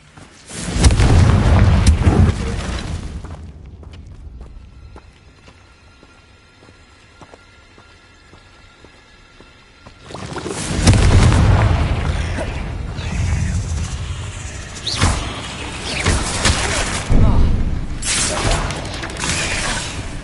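Hogwarts Legacy spellcasting: Confringo blasting spell explosions, with loud booming bursts at the start and again after a quieter stretch in the middle, followed by further crackling impacts.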